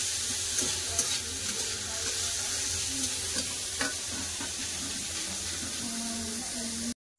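Salted snake gourd fries in a pan with a steady, moderate sizzle, punctuated by occasional soft stirring knocks, close by and unbroken until it cuts off abruptly.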